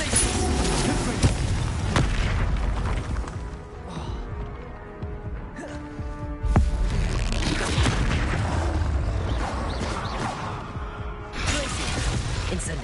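Spell blasts in Hogwarts Legacy combat, fire, explosive and ice casts, boom and crackle in repeated heavy bursts with shattering impacts and whooshes, loud and continuous over a game score, with a voice calling out spells.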